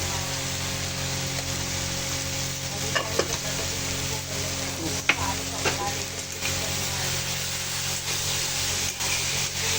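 A spoon stirs shingada bhaji in a hot pan, scraping and clinking softly against the sizzle of frying vegetables, close and steady with a few sharper taps.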